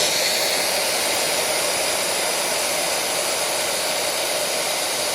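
A mobile line boring machine runs in reverse with a steady, loud, broadband whirring roar of motor and gearing that holds constant from start to finish, with no voices over it.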